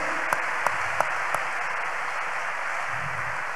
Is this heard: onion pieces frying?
no